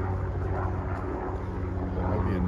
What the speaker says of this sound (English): that might be a news helicopter?